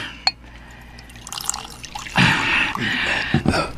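A drink is poured into a glass, a steady liquid splash and gurgle that swells after a few soft clinks and drips and runs on for about a second and a half with no talking.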